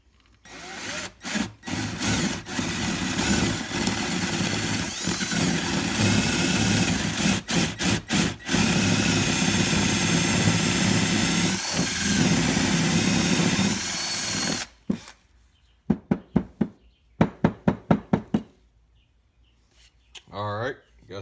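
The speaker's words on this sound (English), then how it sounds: "Alright, got that drilled." A power drill bores into wood for a carpenter bee trap, a loud continuous grinding for about fourteen seconds, followed by several short bursts and clicks as the drill stops and starts.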